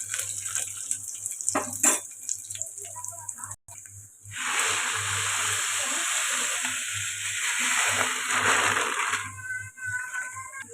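Dal stirred and frying with onions in a hot pan for toor dal with amaranth leaves; a loud, steady sizzle fills most of the stretch, with scraping stirs at the start and a brief quieter gap near the middle.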